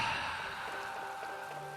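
Rain falls in the video game Tales of Vesperia as a steady, even hiss with faint patter, moderately quiet and continuous throughout.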